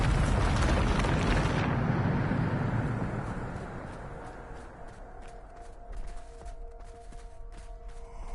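Bombarda spell explosion in Hogwarts Legacy, a heavy roaring blast that rumbles for a couple of seconds, then trails off into crackling debris and faint ringing tones.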